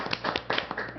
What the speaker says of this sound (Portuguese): Uma salva de palmas aí pro Renato.